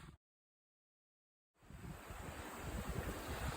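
Ocean waves wash against the shore at a high lookout, as a steady rushing surf mixed with wind noise. It starts after a brief silent gap and rises to a constant roar.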